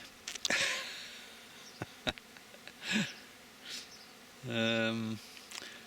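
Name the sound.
honey bees buzzing around hives after a swarm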